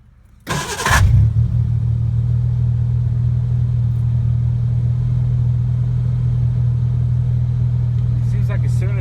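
A 1986 Ford Ranger starter grinds and clacks in one brief, loud burst as it kicks out of the flywheel. The engine then settles into a steady, close idle that runs on, with no voices.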